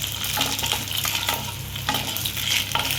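Eggs fry with green chilli masala in a pan for a Punjabi dish, a dense close sizzle with constant stirring scrapes and small clatters of the spatula, steady throughout and free of speech.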